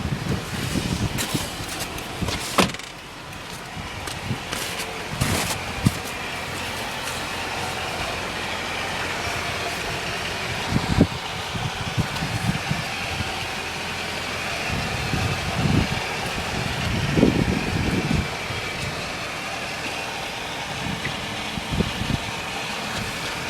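A 2000 Toyota Camry LE engine idles with a steady, even rumble, broken by occasional clicks and knocks from someone moving around the car, all close to the mic.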